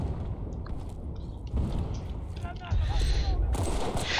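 Battlefield: Bad Company 2 gameplay with a rumbling stream of in-game gunfire and heavier blasts that get louder toward the end. Someone talks over the shooting.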